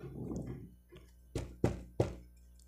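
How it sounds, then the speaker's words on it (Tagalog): Three loud, hard knocks on a wooden door from outside a bedroom, spaced evenly and ringing sharply after a softer rustling start. "Malakas na katok ang gumising sa kanya mula sa labas ng kwarto."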